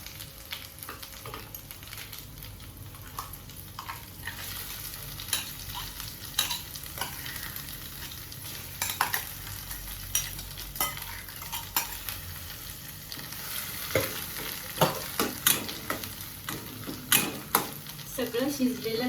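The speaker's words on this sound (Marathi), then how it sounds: "ते भाजी परतून घ्यायची." Vegetable paste being stir-fried in a hot tempering of oil and asafoetida for an ambadi (roselle leaf) chutney, with steady sizzling and repeated scraping stirs of a utensil against the pan, growing busier toward the end.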